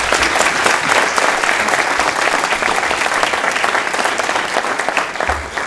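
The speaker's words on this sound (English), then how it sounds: "Big round of applause for Greg Hamilton." Loud, dense audience applause welcoming a county sheriff at a public event, a steady wash of many hands clapping together that fills the whole stretch without letting up.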